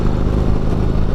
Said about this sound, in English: just that stock exhaust note